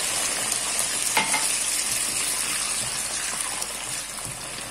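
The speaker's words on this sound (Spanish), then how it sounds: "Lo freímos un poquito." Chorizo frying in a pan, a steady close sizzle throughout with faint stirring scrapes, no talking.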